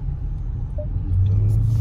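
A Dodge Challenger with a fault, said to bang when it shifts gear under acceleration, idles with a deep, close engine rumble that swells slightly as the throttle comes up near the end.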